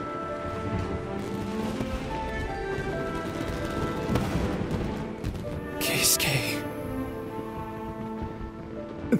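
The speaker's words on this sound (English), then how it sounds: "So, Yumiya, these fireworks," Fireworks boom and crackle during a fireworks show in Genshin Impact, with steady rumbling bursts layered under game music and a bright hiss of sparks midway. Voices talk over them.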